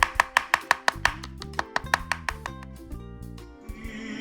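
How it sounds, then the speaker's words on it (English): Knife chopping fish and green onion finely on a cutting board, a fast run of sharp, evenly spaced close taps that slows and loosens toward the end. "we're just gonna chop it up super fine"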